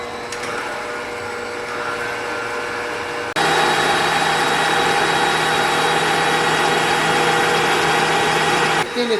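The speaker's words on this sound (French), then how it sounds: "Je vais juste m'assurer que c'est bien mixé." Electric mixer beating four eggs: a steady motor whine that jumps louder partway through as the speed rises, then runs continuously and close before cutting back near the end.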